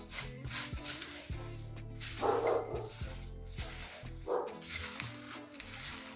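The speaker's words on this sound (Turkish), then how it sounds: "köpeklerin sesi geliyor." Several dogs bark in short bursts somewhat far off, muffled as if outdoors, over a background of steady rumbling noise.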